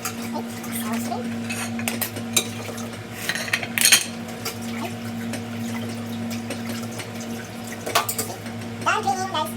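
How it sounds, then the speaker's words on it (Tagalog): Shrimp are rinsed and cleaned in water in a pan, with clinking, sloshing and scraping over a constant hum, scattered louder knocks near the start and end. "we need to clean our crabs and also the shrimp"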